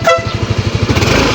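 A horn on a Yamaha Mio i 125S scooter sounds in a short, loud, buzzy burst with a rapid pulsing rattle, close by and alone.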